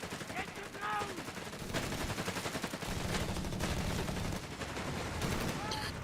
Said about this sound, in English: it is going to be heavy machine gun spam